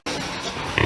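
A commercial first-litter sow and her piglets grunt up close in a barn, a brief burst of snorting grunts that rises sharply at the end.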